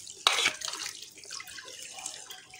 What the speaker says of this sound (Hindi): उसके लिए चिकन धोया तो जा रहा है